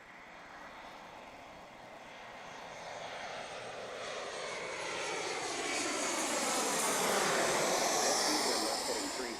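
A passenger aircraft arriving at Chicago O'Hare airport: a broad jet roar that swells steadily from moderate to loud as the plane comes closer, peaking near the end and then easing slightly, with no talking.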